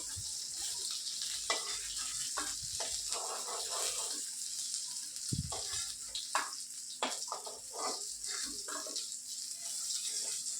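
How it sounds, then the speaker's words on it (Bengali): Steady sizzling of fish frying in a pan, a constant bright crackle with scattered pops and light clinks of utensils throughout. "এদিকে মাছ ভাজা হচ্ছে।"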